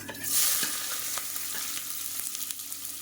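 Large onions sautéing in a pan with cumin, fennel seeds and curry leaves for a South Indian kuzhambu, a soft steady sizzle with occasional scraping stirs, close and fairly quiet with no talking.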